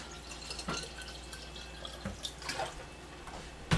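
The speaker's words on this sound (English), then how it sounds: "Add a little more vinegar, have it covered by about" Vinegar trickles into a container of pickling carp, a faint liquid splash and a few soft drips rising from a quiet background.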